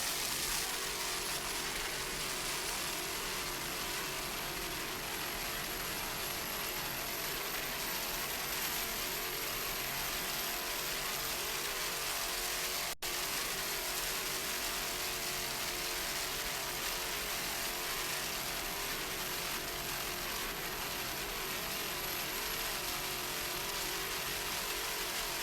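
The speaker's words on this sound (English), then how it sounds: "Those Blue Thunder engines doing their job." Racing powerboat with Blue Thunder engines at the 1996 Key West world championships, a steady distant engine drone mixed with wind and water noise, constant and unbroken with no talk.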